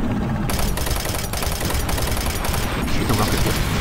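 Rapid weapon fire in the video game Doom 3, a dense unbroken barrage of loud shots with brief gaps, close and continuous throughout.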